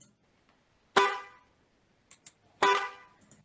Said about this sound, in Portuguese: Duas ocorrências do mesmo objeto sonoro, que é essa buzina de carro